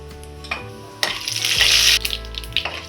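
Mustard seeds, urad dal, chana dal and cumin crackle and sizzle in a tablespoon of hot oil, a steady close frying hiss that surges loudly midway with a few soft pan knocks.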